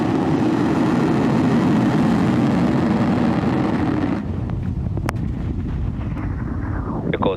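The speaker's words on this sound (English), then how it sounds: "Ignition. Liftoff of Falcon 9." SpaceX Falcon 9 rocket lifting off from California, a loud continuous broadband roar that partly drops in intensity midway, with a rumbling low end and distant crackle.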